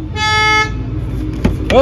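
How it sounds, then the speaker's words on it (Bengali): Car horn honks loudly in a short toot near the start, then brief blips follow amid road noise, with people talking throughout. "আমার বাবা দেখো হর্ন বাজাচ্ছে"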